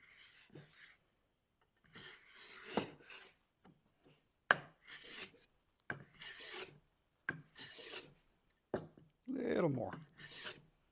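A 135-year-old Stanley No 4 hand plane shaves wood in a run of separate rasping strokes, each a short burst with pauses between, fairly close; someone speaks briefly in the middle of the strokes.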